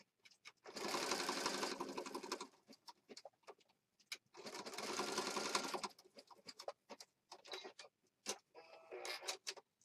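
Sewing machine stitching a junk journal embellishment in two bursts of steady, close whirring, separated by pauses filled with small clicks and handling taps.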